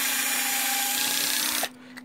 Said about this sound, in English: this is the deepest hole that we'll have to drill through